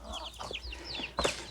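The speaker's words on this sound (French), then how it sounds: "C'est mes poules." Backyard hens clucking in short bursts near a garden coop, with baby chicks around, several overlapping calls ending in a louder squawk.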